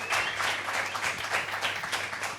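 A TV studio audience applauds guests on a French entertainment show, a dense burst of clapping that holds steady for a couple of seconds, close and lively, with no voices over it.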